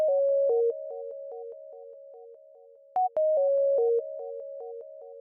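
A simple synth lead melody from a trap beat built in FL Studio, a bright tonal line stepping through short repeated notes in a steady rhythm with a brief gap near the middle, loud and alone with no talking.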